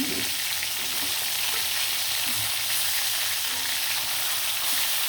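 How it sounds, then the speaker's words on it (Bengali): River rohu (rui) fish frying in a pan of hot oil for an eggplant curry: a loud, steady, close-up sizzle with a constant crackling hiss throughout and no talking. "মাছটা আর একটু বাজা বাজা হলে উল্টাবো এখন"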